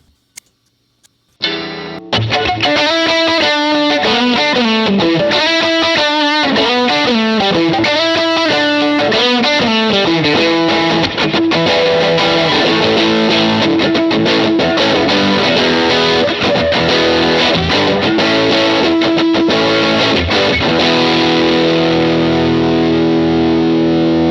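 Electric guitar plays a driven riff through a Pettyjohn Gold MK II preamp pedal and effects, a crunchy, distorted tone, loud and continuous, ending on sustained ringing chords.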